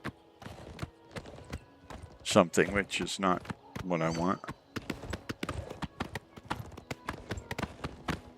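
Horse hooves clip-clop at a steady riding pace in the video game Oblivion Remaster, a clear regular series of sharp hoofbeats running throughout, with someone talking over the middle stretch.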